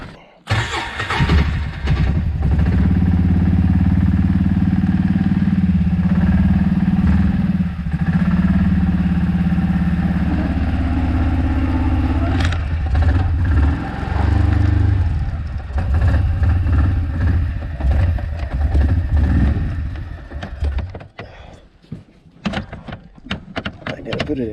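An engine started on the choke runs loudly and close at a high, steady drone for about fifteen seconds, then its speed dips and wavers before it settles, with people talking nearby.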